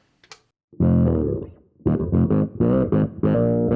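Synth bass on a Fractal FM3 with the full effects chain engaged: a short high blip, then thick, distorted bass notes in choppy bursts, loud and close with no talking.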